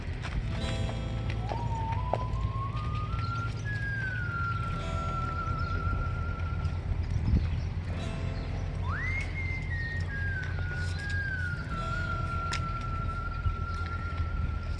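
Steady hoofbeats of a gaited Paint gelding walking under continuous outdoor noise, with long rising whistle-like tones drifting over the top.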